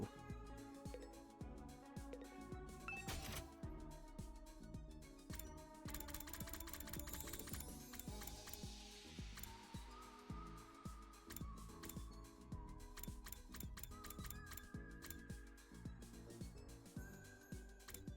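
The Gift-O-Matic machine from the video game The Hundred Line whirs and clanks as it makes a gift, with rapid mechanical ticking and ratcheting over layered game music tones, steady and continuous.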